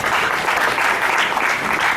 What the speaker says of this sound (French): Est-ce qu'on peut encore les applaudir?